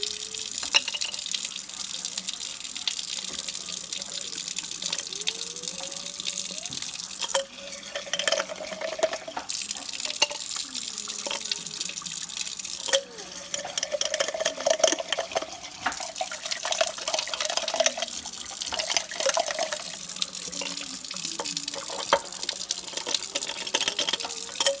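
Apple cider vinegar pours into a glass jar with a steady liquid trickle and faint splashing, running continuously at moderate level with no talking.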